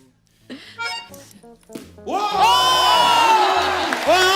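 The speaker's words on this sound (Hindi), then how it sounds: "जोरदार तालियां हमारी क्रिकेट टीम के लिए" Studio audience at a comedy show cheers and whoops loudly after a women's cricket team bowling moment, with a dense swelling crowd roar filling the second half after brief shouted voices.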